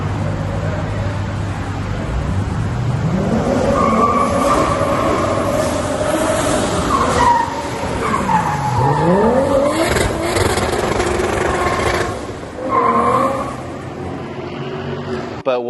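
The FnF Toyota Supra driving on the street, a loud engine revving up and down through gears with rising and falling pitch, tires and road noise, close and powerful throughout.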